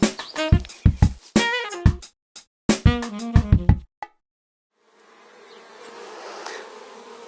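Honeybees fly near a beehive entrance in springtime, giving loud, close buzzing passes that come and go in bursts. A quieter stretch of low background hum follows.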